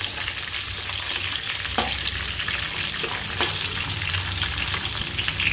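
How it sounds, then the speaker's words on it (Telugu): Food frying steadily in a pan of hot oil, a dense continuous sizzle with a couple of brief sharper crackles, close and alone with no talk. "చూడండి ఎలా వేగుతున్నాయో."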